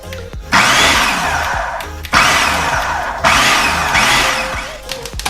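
A food processor pulses butter, flour and sugar into a sandy crumb in four loud, close bursts of whirring motor, each lasting about a second, separated by brief pauses.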